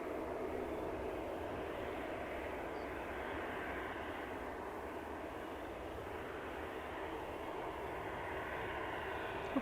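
Canadian North aircraft under tow at Edmonton International airport, a steady broadband engine-like roar held at an even level throughout with no talk.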